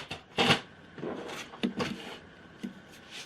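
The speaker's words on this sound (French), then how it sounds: "Donc je prends le massicot" A paper trimmer slicing through card in a craft session, several sharp, crisp cutting strokes spaced irregularly, close and fairly loud with no talking.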